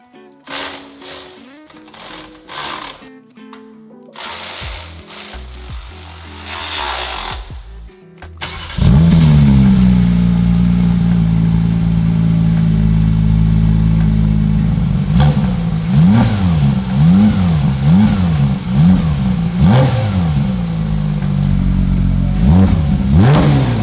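Porsche 992 GT3 with a titanium JCR exhaust fires up after some workshop clatter, then settles into a loud close idle broken by repeated sharp throttle blips and revs.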